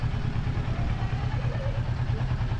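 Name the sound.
Kawasaki Ninja 650 motorcycle engine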